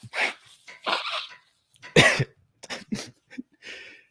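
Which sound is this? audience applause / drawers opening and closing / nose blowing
nose blowing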